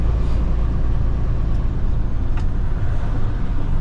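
Truck rolling down the road, heard from inside the cab as a loud, steady rumble of engine and road noise, with a couple of faint ticks above the drone.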